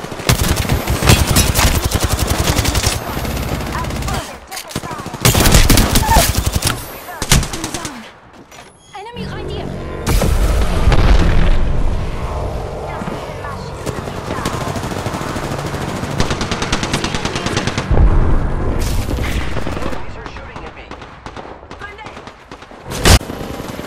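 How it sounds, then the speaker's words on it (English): Automatic weapon fire rattles in bursts during an Apex Legends firefight on Olympus, loud volleys broken by short pauses and a near-silent gap, with a player talking over the shooting. "I'm getting shot at"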